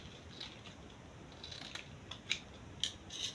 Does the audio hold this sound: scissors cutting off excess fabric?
yes